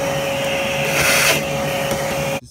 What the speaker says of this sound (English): So I'm gonna vacuum it now.